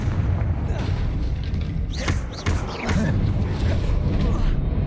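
The Confringo fire spell explodes in Hogwarts Legacy as a loud, rumbling blast that swells into a sustained roar of fire and crackling debris, with brief sharp whooshes in the middle.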